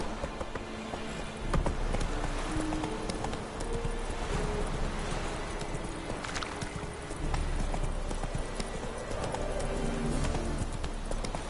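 Roach the horse gallops in The Witcher, hooves clip-clopping in a fast, continuous rhythm over a dense bed of game ambience, with no voices.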